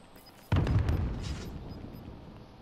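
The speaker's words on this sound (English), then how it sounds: "Grenade out!" A grenade detonates in Call of Duty Modern Warfare with a single sharp, loud blast that decays into a long rumbling tail, following a quiet stretch of game ambience.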